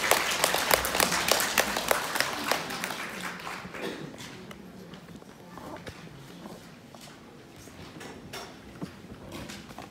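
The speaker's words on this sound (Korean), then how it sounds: "여러분 큰 박수로 맞이해 주시기 바랍니다" An audience at a Korean policy forum on K-beauty and semi-permanent tattooing welcomes a professor with a burst of applause, dense and loud at first, then thinning and fading to a light scattered patter.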